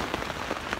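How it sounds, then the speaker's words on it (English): Dense patter of heavy pouring rain drumming on a taut tent fabric close by, steady and continuous. "And it is pouring right now."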